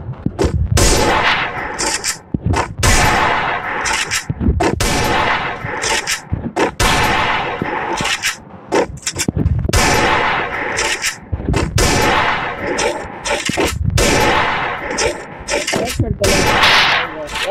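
Rapid, loud gunfire from a first-person shooter game fills the whole stretch in repeated bursts of shots, with a player's voice talking excitedly over the shooting.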